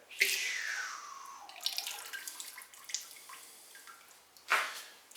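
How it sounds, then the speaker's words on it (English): Ceramic glaze pours out of a pottery bowl, a soft liquid splash and trickle that tapers off, followed by faint drips and a small splash near the end, with no talking. "now I'm ready to pour it out"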